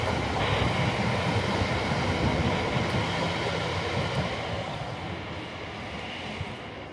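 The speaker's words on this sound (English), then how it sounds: "Do a bit of train spotting." A train rolls past on a railway in East London, a dense, steady rumble and roar filling the whole stretch, close and loud, fading slightly toward the end.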